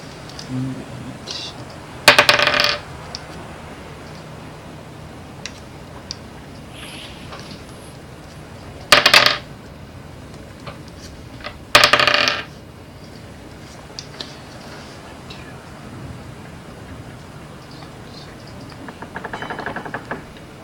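Dice roll and clatter on a table during a Skulls & Shackles tabletop role-playing session, heard as three short rattling bursts spread across the clip with quieter background noise between them.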